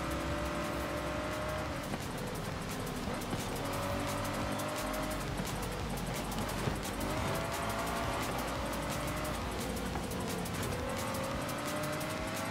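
A racing car engine in the video game Forza Horizon 5 drones steadily throughout, with rising and falling pitch as it shifts and accelerates, loud and continuous with occasional tire noise.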